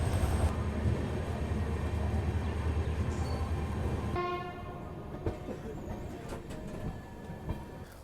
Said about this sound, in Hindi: तो देखो बिल्कुल 5:10 डिपार्चर हुआ अपना शकूर बस्ती रेलवे स्टेशन से।